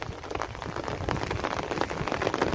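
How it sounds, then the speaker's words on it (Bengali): Steady rain falling in rural Bengal on a hot-season day, a continuous dense patter of drops on surfaces, moderately close and even throughout, with no talking. "সকাল থেকে বৃষ্টি হচ্ছে"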